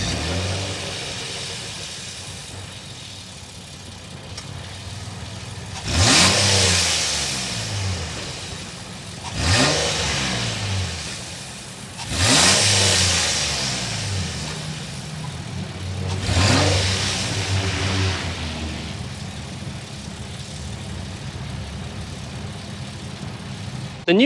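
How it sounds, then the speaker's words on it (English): A 2023 Infiniti QX60 with a 3.5-liter V6 fires up and settles to a steady idle, then its exhaust swells through four sharp revs, each falling back to a smooth, close idle. "Let's go inside, start it up, and hear that exhaust note."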